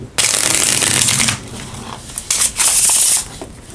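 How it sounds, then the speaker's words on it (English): Two quick bursts of riffle shuffling a Bicycle playing card deck, a longer crisp flutter followed by a shorter one after a brief pause, close and fairly loud. "I'm going to give it a quick riffle shuffle"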